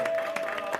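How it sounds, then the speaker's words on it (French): An audience at a Torah scroll dedication celebration claps briefly, a dense patter of many hands over a faint steady tone. "Richard Metoudi, on l'applaudit très fort."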